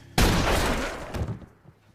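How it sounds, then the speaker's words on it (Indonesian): Gunfire in a Billy the Kid western film: one loud, sudden blast close by, followed by a rough, decaying rumble lasting about a second and a small second burst. "Tepatnya ketika Keri ingin menembak lagi dan lagi"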